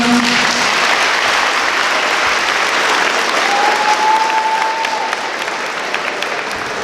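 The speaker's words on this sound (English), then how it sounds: "give my parents a round of applause" An audience at a Black History Month speaking event gives a sustained round of applause for the speaker's parents seated in front, a steady, dense roar of clapping throughout.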